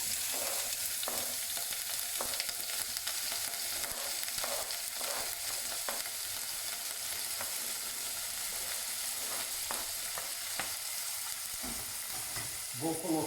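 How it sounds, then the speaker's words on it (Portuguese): Tomato and chopped onion sautéing in olive oil in a pot for a shrimp bobó, with a constant sizzle broken by repeated scraping stirs and a few light clinks of a utensil against the pan. "E agora eu vou refogar, tá? Tomate, cebola picada."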